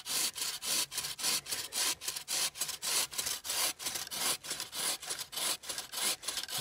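A hand saw cuts through a small tree in the woods, rhythmic back-and-forth strokes about two per second, close and steady with no talking.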